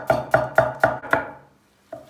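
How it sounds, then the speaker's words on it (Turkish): A knife chops garlic on a cutting board for a Turkish meat dish, five sharp, evenly spaced thuds close by, then a pause and one more cut. "Hemen sarımsakları da doğruyoruz."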